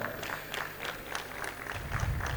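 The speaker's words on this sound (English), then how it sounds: "Mr. Varun Sharma, can you please stand up and give this gentleman a very warm round of applause?" Audience at a fuel industry expo gives a round of applause, a faint, steady patter of many hands clapping in a large hall.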